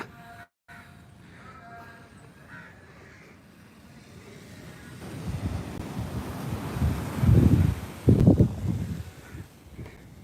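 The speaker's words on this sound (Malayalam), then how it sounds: "കടലിൻ്റെ തീരമാണിത്" Sea waves and gusty wind on the seashore beside Manikketti temple in Kollam: steady wind buffeting the microphone, with surf surging louder and crashing in rough bursts toward the end.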